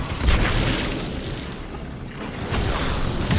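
Grenade blast in Mass Effect 3, a deep boom with a sustained rumbling roar that dips briefly and swells again near the end, loud and close with no talk.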